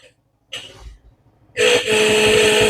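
A short blip, then a loud steady Suzuki Smash motorcycle horn blares close by and holds without a break.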